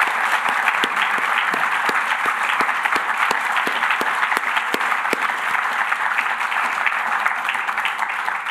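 Sustained audience applause welcoming university trustees at a building naming ceremony for Baier Hall and Jerome Hall Law Library, steady dense clapping throughout with some sharper individual claps standing out.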